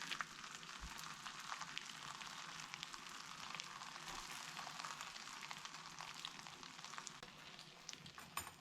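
A 10-inch flour tortilla fries in hot oil in a pan, giving a faint, steady sizzle and hiss with small crackles throughout, no voices.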